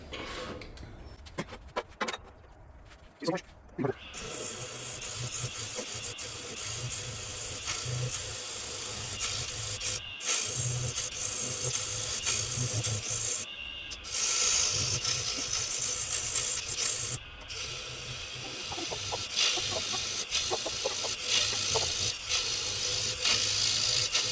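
Woodturning lathe hollowing out the bottom of a wooden yarn bowl, a steady close scraping and rubbing of the tool on spinning wood that runs almost continuously, with a few brief pauses where the cut stops.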